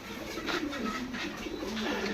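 Soft, low pigeon coos repeat over a steady background hum, several birds murmuring close together.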